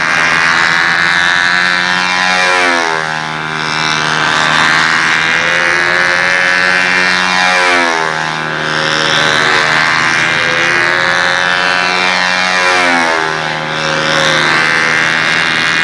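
A two-stroke engine on a model plane with a three-bladed propeller runs hard and loud, its buzzing pitch rising and falling in repeated sweeps as the aircraft passes through aerial maneuvers.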